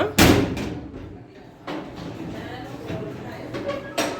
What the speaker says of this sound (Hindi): चलो जी शाफे, दरवाज़ा बंद करो।